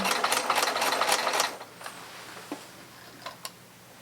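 A sewing machine runs in a quick rattling burst for about a second and a half, then stops, leaving a few isolated mechanical clicks and ticks in a quiet room.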